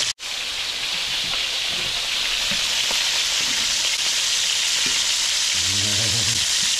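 Sausage fries in a pan with a loud, steady sizzle and crackle that continues throughout, after a brief sharp clank at the start and a few light scrapes near the end.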